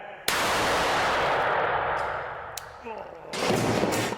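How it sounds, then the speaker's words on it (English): A BolaWrap restraint device fires its cord during a police demonstration: one sharp, loud crack followed by a sustained rushing hiss that fades, then a second burst of noise near the end. "An officer can aim with the attached laser, point, and fire."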